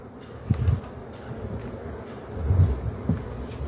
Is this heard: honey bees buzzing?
yes